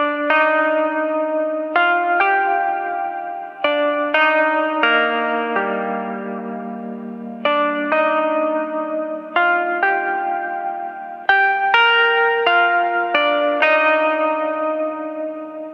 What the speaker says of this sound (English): I recorded this on an actual vintage Wurlitzer at studio.